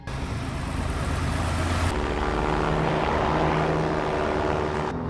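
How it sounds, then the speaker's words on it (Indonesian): A private jet flying past, a steady loud engine roar that shifts in tone midway as the aircraft passes, with no talk. "Dengan jet pribadi kenalannya, mereka segera terbang untuk kembali ke Madrid."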